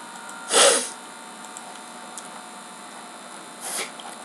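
One loud, close sneeze bursts out, then a quiet hum runs under near-silence until a second, softer sneeze-like burst near the end.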